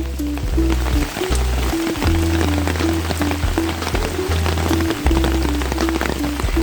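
Steady rain falls through a wet day at a rural home, a dense even patter on surfaces that carries on without pause, with faint low tones underneath.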